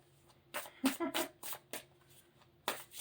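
Thick, stiff tarot cards being shuffled in a handful of distinct, snappy bursts with short pauses between, close and fairly quiet.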